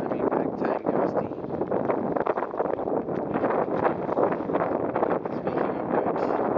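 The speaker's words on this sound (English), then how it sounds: "It is really gusty. I mean, big time gusty." Strong, gusty wind buffets the microphone while sailing, producing loud, rumbling low-frequency roar that surges and dips unevenly from moment to moment.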